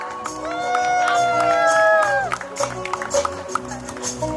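Crowd at a family celebration cheering and clapping, a burst of voices and applause mixed with a sung or musical tone at first, then scattered claps and chatter as it settles.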